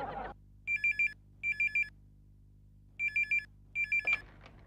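A telephone rings out while a call is placed to a gas agency, four clean electronic double-trill bursts in a steady repeating rhythm, near and clear over a quiet background, with a brief noise at the start and end.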